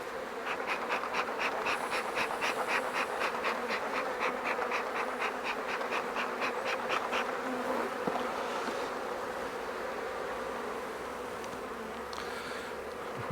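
Honeybees hum and buzz steadily around an open nucleus hive as its frames are inspected, a close, continuous drone with a few sharper individual wingbeat passes early on.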